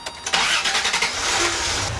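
A car engine cranks with a few quick bursts, then catches and settles into a steady running rumble, close by.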